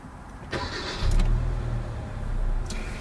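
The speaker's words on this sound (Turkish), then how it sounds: "marşın birbirine vurma sesi duyuluyor" A 2012 Hyundai i20 1.4 CVVT engine cranks with a brief starter whir, the starter gears knocking together, then catches and settles into a low, steady idle close by.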